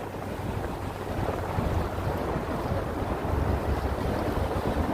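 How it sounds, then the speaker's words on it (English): East River water in New York City with waves and a passing boat. The rush of moving water is steady and loud, and wind buffets the microphone throughout. "Maria, I love the sounds of this river."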